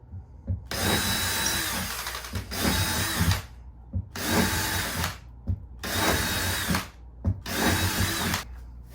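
A power drill punches a ring of holes around a circle in a house ceiling for a recessed light, five loud close bursts of about a second each separated by short pauses, with no talking.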